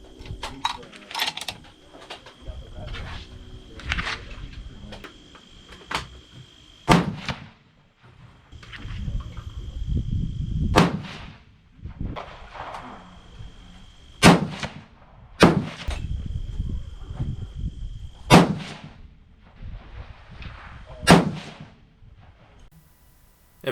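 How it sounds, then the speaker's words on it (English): Five separate 6.5 PRC rifle shots loaded with Retumbo powder and Hornady 153gr A-Tip bullets ring out loud and sharp at a range, spaced several seconds apart, with handling clatter and brief low voices in between. "Time for the last 5-shot group"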